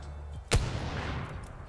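A single sharp hunting-rifle shot in the video game Teardown cracks out loud and close, followed by a long rumbling tail of echo and debris noise.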